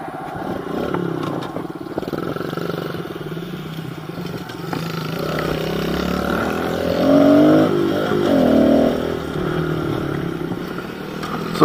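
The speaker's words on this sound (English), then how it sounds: "So Billy got his KLX 120, or not 125, KLX 110 last night, and he likes it a lot" Kawasaki KLX 110 pit bike engine running steadily as it is ridden on dirt, with a continuous mid-pitched drone that rises in a couple of revving swells near the end, fairly close and without talk.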